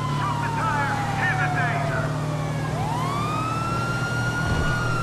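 Police car sirens wail in a GTA V pursuit, sweeping tones rising and falling continuously over a steady low engine rumble throughout.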